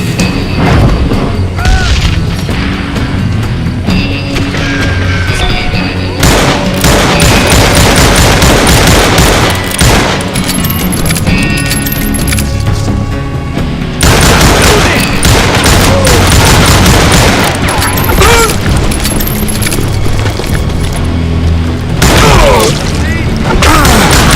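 Dense, loud gunfire from a Western shooter game, Call of Juarez: booming shots and rapid fusillades with crashes and mechanical clatter running almost continuously, mixed with voices and game noise.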